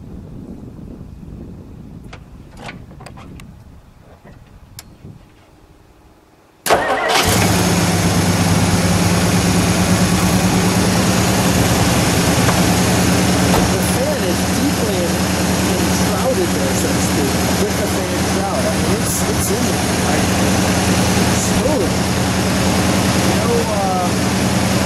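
A 1963 Studebaker GT Hawk Gran Turismo base engine cranks and fires after a quiet stretch, then settles into a loud, steady idle with a low exhaust rumble that continues close by for the rest of the clip.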